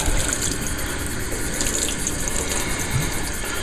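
Tap water runs steadily and loudly, splashing while rinsing soap suds out of a hummingbird feeder, a dense continuous close-up rush with no talking.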